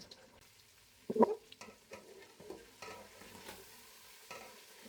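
Chicken pieces with vegetables sizzle quietly in oil for shashlik, a faint, low fry with occasional soft stirring bumps, close but subdued.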